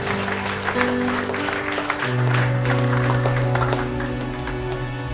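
A church congregation claps during a Christmas sermon, a broad wash of hand claps blended with crowd noise and sustained tones, loud and continuous across the whole stretch.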